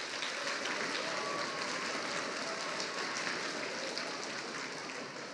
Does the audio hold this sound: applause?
yes